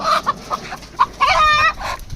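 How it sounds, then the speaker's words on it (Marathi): Close, loud hen clucking in short bursts in a rural village, with one longer drawn-out call near the middle, no people talking. "हे बघा आमच्याकडे किती कोंबड्या आहेत तुम्ही पाहू शकता"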